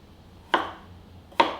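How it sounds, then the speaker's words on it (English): Knife chops straight down through zucchini onto a cutting board, giving two sharp, close, isolated chops about a second apart. "I like chopping straight down"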